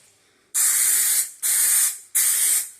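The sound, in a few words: spraying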